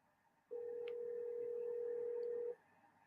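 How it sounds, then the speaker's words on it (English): A single steady electronic telephone tone sounds for about two seconds, continuous and clear over a faint background hiss. "It's ringing though, guys."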